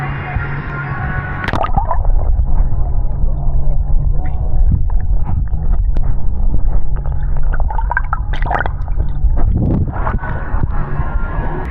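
DJI Action 4 camera dunked underwater, giving a dense, muffled rumble with gurgling bubbles and sloshing surges throughout, loud and close, with no voices.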